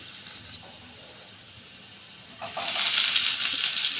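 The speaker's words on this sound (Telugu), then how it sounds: "కడాయి తీసుకుని అందులో కొద్దిగా ఆయిల్ వేసుకోవాలండి అల్లం చిన్న ముక్కలుగా కట్ చేసుకుని ఫ్రై చేసుకోవాలి" Chopped ginger and garlic frying in oil in a kadai: a quiet stretch, then the sizzle and hiss of hot oil swells up suddenly and keeps going steadily.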